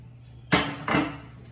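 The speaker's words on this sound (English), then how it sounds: "a hammer" Two sharp metallic knocks of a hammer being picked up and handled on a craft table, close and clear, a fraction of a second apart in an otherwise quiet room.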